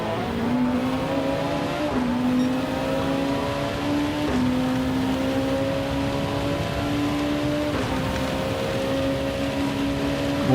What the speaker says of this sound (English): Cars all around me.